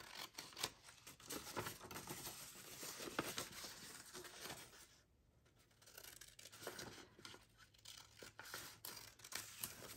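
Scissors trim folded paper while making an envelope, giving close, crisp snipping and rustling with irregular cuts and a brief quieter pause midway.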